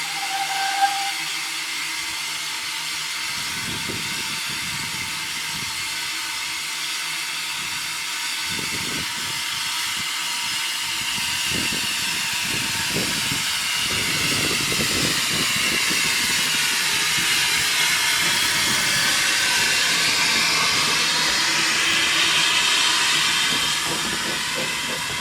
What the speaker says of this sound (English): Trojan was the engine on the shorter demonstration line